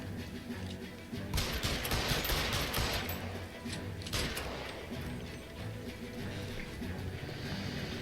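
Bursts of rapid gunfire fill a shootout in the video game L.A. Noire, loud and dense with clustered cracks and rattling volleys, easing off briefly before picking up again toward the end.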